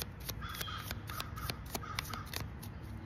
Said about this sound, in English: Here are the crows again.